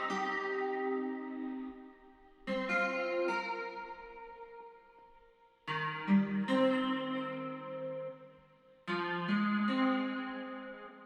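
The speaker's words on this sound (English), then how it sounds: "as like a bridge section I added my own guitar that I played myself that sounds like this" Self-played electric guitar for a bridge section of a smooth R&B beat, run through an amp simulator; four strummed chords ring out and decay one after another, fairly quiet, with no talking.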